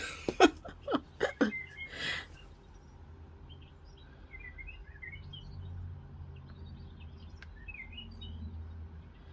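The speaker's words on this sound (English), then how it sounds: "Sorry if you hear the birds." Wild birds sing outside an open window near feeders in a wooded area: a few loud, close chirps at the start, then fainter scattered calls and tweets over a low background hum.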